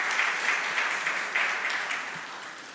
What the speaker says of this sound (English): So one round applause for our own KCF.